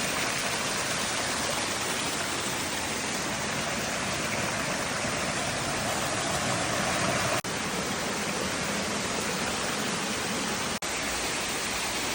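Continuous roar of the Benang Kelambu waterfall in Central Lombok, Indonesia, a dense broadband rush heard close and loud, steady throughout with no voices.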